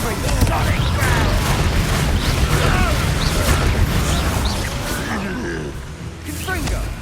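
A Bombarda blasting spell goes off in the Hogwarts Legacy video game, a loud, dense booming burst over constant rumbling battle noise, with crackling debris and a voice speaking during the fight.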